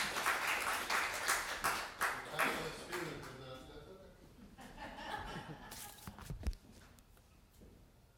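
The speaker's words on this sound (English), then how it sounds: "You can clap for him." An audience at a Student of the Month presentation claps and chuckles together, the clapping strongest at first and thinning out as a few laughs and stray claps linger.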